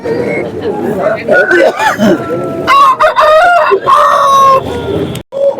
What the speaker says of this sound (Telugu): చాలా పుంజులు అయితే ఉన్నాయి